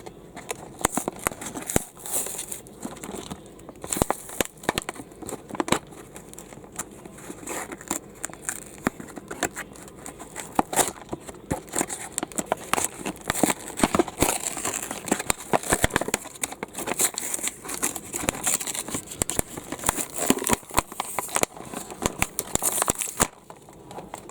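A recycled paper package with tape is torn and unwrapped by hand. The close crinkling, crackling and tearing run continuously in dense bursts with no talk.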